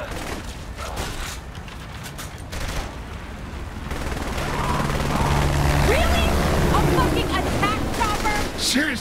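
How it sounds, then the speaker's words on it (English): A helicopter in the video game Saints Row: The Third Remastered thrums through a chaotic firefight, its rotor drone building and steadying while gunfire bursts and effects crackle over it. "Shoot the helicopter."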